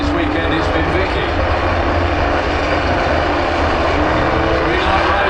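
Drag racing cars launching at Santa Pod, a loud continuous engine roar filling the whole stretch, dense and unbroken, with crowd or commentary noise mixed underneath.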